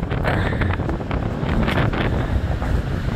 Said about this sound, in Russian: ветер сильный, ребят, и шторм шторм, сильный ветер